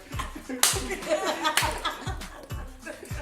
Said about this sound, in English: Come on, Chris, clapping.